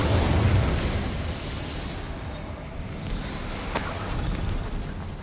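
Incendium fire spell blast in Hogwarts Legacy, a loud fiery burst at the start that trails into a roaring, crackling rumble, with a sharp crack later and no voices.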